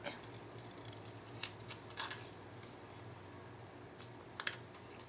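Scissors cutting a letter T out of paper to use as a mask for papercraft, quiet crisp snips and rustles spread irregularly over a few seconds against a low background hum.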